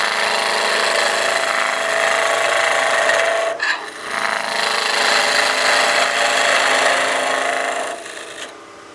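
A skew chisel cuts a small wooden bat house ornament spinning on a wood lathe, giving a steady, close scraping rasp that briefly dips and breaks off midway, then resumes before fading at the end, with no voices.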